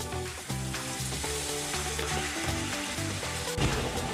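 Mutton frying in a pan with roasted ginger-garlic paste for Mysore-style mutton pulav, a loud continuous sizzle with bubbling crackle and occasional stirring scrapes.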